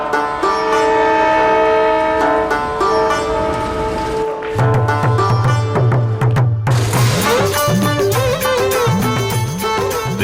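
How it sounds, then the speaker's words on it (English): Intercity Darjeeling Mail train arriving at NJP Junction, India: a loud sustained multi-tone horn blares, then cuts off as heavy rumbling wheels and rhythmic clanking of railway cars take over nearby. "At NJP Junction, at the bottom of the hill, the intercity Darjeeling Mail arrives from Calcutta."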